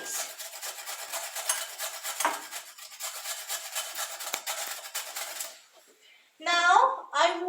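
Carrots being peeled with a hand scraper in a home kitchen, a continuous close raspy rubbing for several seconds, then a brief pause and a short burst of talking.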